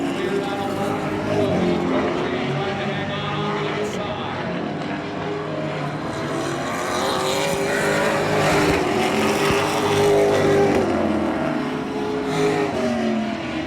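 Pro Stock division stock cars race at Oyster Bed Speedway, their engines roaring in a dense, continuous drone that swells as cars pass, with a commentator talking over the noise throughout.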